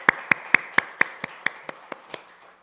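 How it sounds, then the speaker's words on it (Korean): Several slow, evenly spaced claps ring out in a church hall, about ten sharp hand claps in a steady rhythm that gradually fade in loudness, with some room echo and no talk over them. "우리 옆에 있는 분이나 여러분 자신을 위해서 한번 격려의 박수 한번 보낼까요?"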